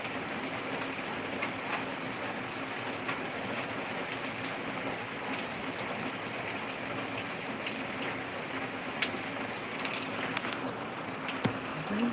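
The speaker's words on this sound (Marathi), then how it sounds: "ह्या पावसानं गोंधळ घातला पाऊस पडू द्या" Dense, steady hiss of heavy rain falling in Nanded district, Maharashtra, constant and even throughout, with occasional faint knocks.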